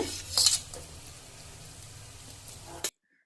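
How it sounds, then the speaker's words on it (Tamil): Pieces of goat spleen stir-fried in masala, giving a soft sizzle with a clatter of utensil against the pan at the start and a final scrape before it cuts to silence. "சுவரொட்டி ஆட் பண்ணிவிட்டு இந்த மசாலா நல்லா கம் கோட் ஆகிற மாதிரி பெரட்டி விடணும்"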